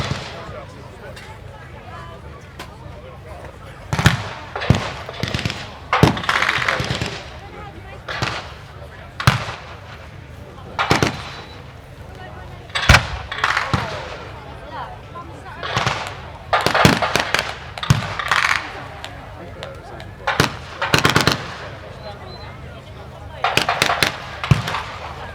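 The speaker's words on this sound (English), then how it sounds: "German motorcycle columns enter the arena to give covering fire." Battle reenactment at the Overlord Show, with German motorcycle columns giving covering fire: sharp blank gunshots and bangs crack out in irregular bursts and single shots over a constant outdoor crowd murmur, loud and fairly close.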